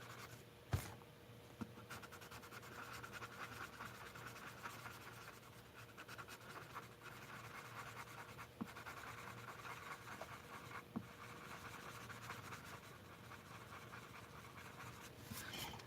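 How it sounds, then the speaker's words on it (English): Soft, steady scratching of a blender pencil rubbed across paper in a mixed-media artwork, faint and close, with short repeated strokes and no talking. "I'm all about this blender pencil, because I don't have to do 20 million strokes"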